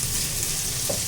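Gongura and raw prawn curry with garlic paste frying in oil, a steady, even sizzle held close and constant throughout, with no voices.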